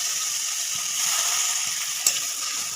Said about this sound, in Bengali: এরপরে আঁচটা জোরে করে দিয়ে আমি জল দিয়ে দেবো।